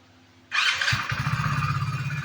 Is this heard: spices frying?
no